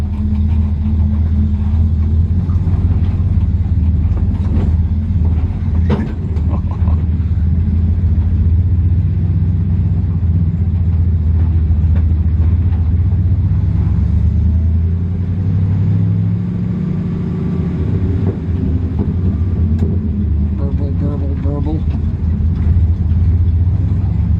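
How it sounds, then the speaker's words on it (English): A truck engine rumbles steadily with a deep, burbling exhaust, low and continuous throughout, with some bumps and rattles over rutted orchard ground on big balloon tires. "Get a good burble from the exhaust system up here."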